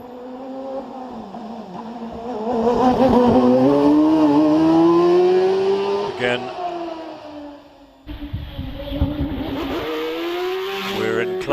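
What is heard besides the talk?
Empire Evo racing car driving at Prescott hillclimb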